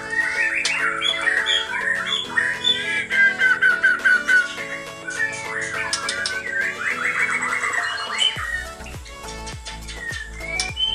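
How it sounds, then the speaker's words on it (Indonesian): A white-rumped shama sings rich, varied whistles and chattering phrases, loud and near, with sharp clicks and tapping sounds joining toward the end. "Jadi burung murai batu bersuara seperti ini"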